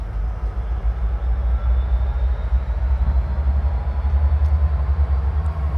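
Diesel freight locomotives shove loaded iron ore cars uphill on Pennsylvania's Bessemer line, giving a loud, continuous low rumble and engine drone that holds steady throughout, with no voices.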